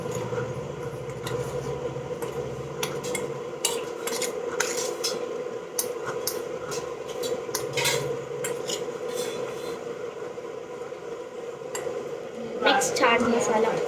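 A spoon stirring a spicy sweet corn masala mixture in a metal bowl, repeated scraping and clinking strokes at an uneven rhythm, with a steady background hum and a louder clatter near the end.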